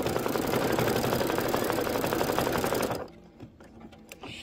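An embroidery machine stitches the small beak of a pillow design, a loud, fast, steady needle chatter close by for about three seconds, then stopping and leaving faint handling noises.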